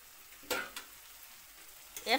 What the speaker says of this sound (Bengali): তারপর দিয়ে দিলাম ছোট চিংড়ি ভাজা করা।